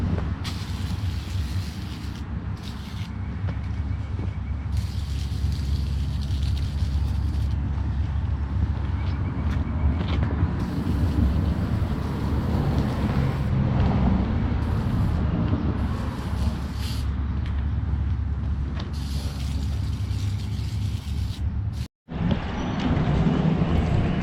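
Water spray blasting a Kawasaki W1 motorcycle engine clean, a steady loud hissing rush that runs almost unbroken, with one brief cutoff near the end.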